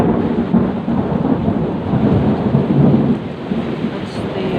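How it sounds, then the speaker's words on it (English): Thunder rumbles through a thunderstorm with rain, loud and sustained, a broad low roll swelling and easing over several seconds with rain hiss throughout. "because that's lightning, I think"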